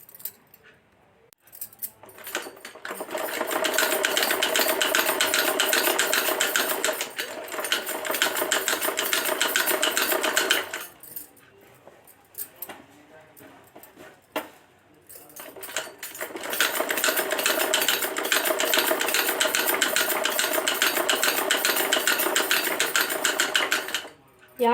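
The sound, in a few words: sewing machine stitching fabric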